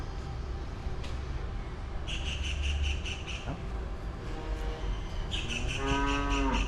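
Cows in Madurai, India moo in long, low calls, several overlapping at moderate distance, with faint outdoor background and a brief knock partway through.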